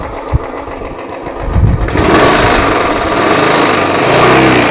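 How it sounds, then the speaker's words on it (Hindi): Bullet motorcycle engine with a sound-reducer silencer fitted, idling as a dull, even thump at first, then swelling into a louder, denser, steady mechanical rumble that holds close and continuous. "केवल इंजन की आवाज़ आ रही है, बिल्कुल इंजन की आवाज़ आ रही है"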